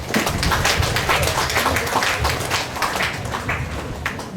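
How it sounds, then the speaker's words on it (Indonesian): An audience at a school feast-day celebration and book launch applauds, steady dense clapping with distinct sharp claps throughout, fairly close and loud. "Sekali lagi tepuk tangan buat SWD loh"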